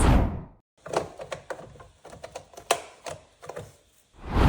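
Plastic filter parts of a Tineco Floor ONE S3 wet-dry vacuum being handled and snapped back into place, a quick series of sharp clicks and clunks, close and moderately loud.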